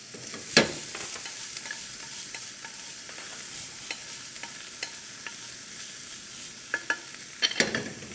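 Onion being stirred into a pan where noodles are frying, with soft continuous sizzling under scattered clinks and scrapes of a utensil against the pan, a few sharper knocks near the start and end.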